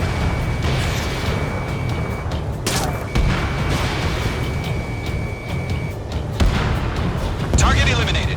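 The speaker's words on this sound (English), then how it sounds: "Mage 2, missile away" Missiles launch and explosions rumble in the jet combat game Ace Combat 7, with deep continuous booms and bursts under radio chatter, a steady lock-on tone sounding across much of the stretch.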